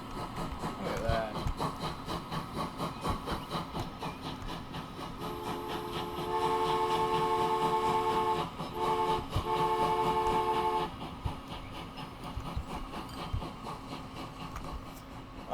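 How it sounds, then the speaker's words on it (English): A freight train in the railway-building game Transport Fever 2 rumbles and clatters steadily, with a sustained multi-tone horn blowing for several seconds in the middle before the rolling noise carries on alone. "That train is now purchased."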